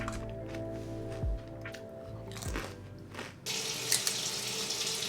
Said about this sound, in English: Right now I'm thawing them in cold water